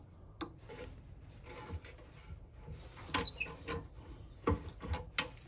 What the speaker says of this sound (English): when I'm cutting these threads